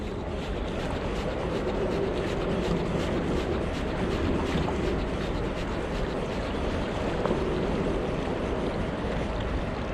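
Steady wind blows over open water with a constant rushing wash of waves, a broad even roar with no voices.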